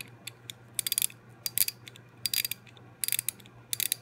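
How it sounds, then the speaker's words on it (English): A vintage Firestone 3/8-inch drive ratchet clicks in quick bursts of sharp, close pawl ticks, several short rattling runs separated by brief pauses. "this is a pretty sounding ratchet. Let me do it this way."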